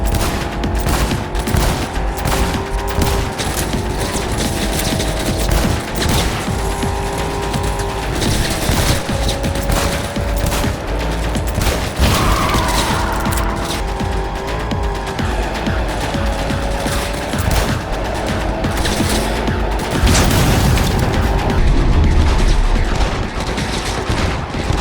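Pistol gunfire in the video game Cyberpunk 2077, fired at vehicles, a dense stream of loud shots over a continuous drone of engine and game music, with no talking.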